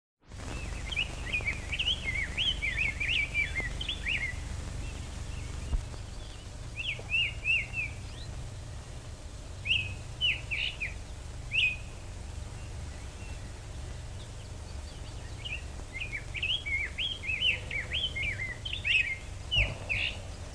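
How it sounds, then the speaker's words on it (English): Early historical recording of a grosbeak singing, with short bursts of warbled song repeating at intervals over a constant low hiss and hum of the old recording. "one of the first, if not the first, audio recordings ever made of a bird singing"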